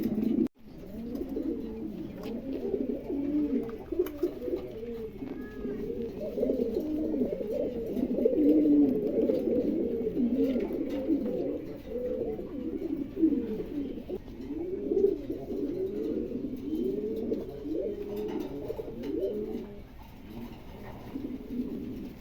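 Male pigeon cooing steadily at a pigeon dealer's market, a dense, continuous run of low rolling coos from several nearby birds lasting throughout, with a brief faint chirp partway through.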